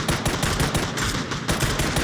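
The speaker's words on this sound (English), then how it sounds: "he's shooting a good 20, 30 feet in front of him" Rapid automatic gunfire in the battle royale game PUBG during a Nations Cup match, a continuous loud stream of closely spaced shots filling the whole moment with no talk.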